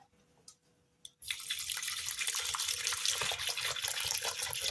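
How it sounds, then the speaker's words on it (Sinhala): Water pours steadily into a container to mix an energy drink from a powder sachet, a continuous close splashing rush that begins abruptly after a few light taps. "මම මේ විදිහට මේකට වතුර ටිකක් දාගන්න."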